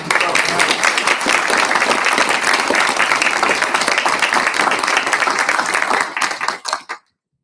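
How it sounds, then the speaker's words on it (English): A large lecture audience breaks into loud, dense applause, many hands clapping in a sustained roar close by before it thins to scattered claps and cuts off abruptly. "let's give her the loudest applause that she's ever had"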